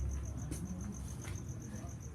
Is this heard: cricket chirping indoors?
yes